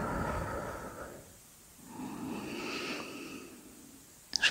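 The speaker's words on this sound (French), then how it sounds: "L'air que je souffle par ma bouche entre mes deux lèvres." Calm, slow breathing during a guided relaxation exercise: a soft, airy exhale blown out between the lips, then a gentle breath in, close and quiet, ending with a brief small click.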